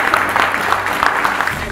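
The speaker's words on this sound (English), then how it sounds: "let's welcome him with a huge round of applause." Audience applause welcoming Shri Saurabh, an Indian politician and Member of Legislative Assembly, at the Times Power Women awards event; a steady, dense wash of clapping fills the whole stretch without letting up.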